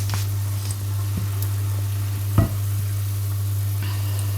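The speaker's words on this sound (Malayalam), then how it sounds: "നോക്കൂ, ഭയങ്കരമായിട്ട് തിളയ്ക്കുന്നു" Rasam boils vigorously in a pot on the stove, giving a steady, soft bubbling wash over a constant low electrical hum, with one brief clatter midway.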